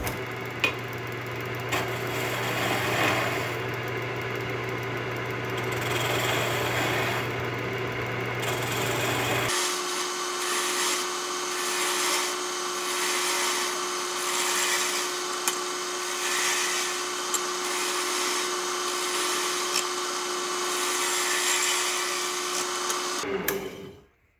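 A wood lathe spins a pen blank as it is turned down to the bushing, a steady whirring motor hum with a rougher cutting texture, the pitch and tone shifting partway through before the machine winds down at the end; no talking.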